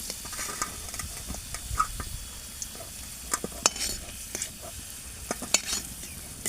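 Potatoes fried red in hot oil are stirred and lifted out of the pan, with a continuous sizzle broken by scraping and clinking of a utensil against the pan.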